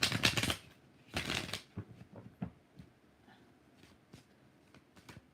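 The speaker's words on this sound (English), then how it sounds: "One more shuffle." Tarot cards shuffled by hand in bursts: two loud riffling runs followed by softer scattered card taps and slides, close and without talk.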